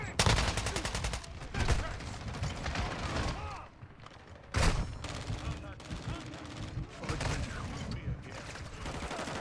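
Rapid shotgun blasts and other gunfire from Call of Duty Modern Warfare 2 multiplayer, loud and dense with mechanical clatter, running nearly continuously with brief lulls and some voice chat mixed in.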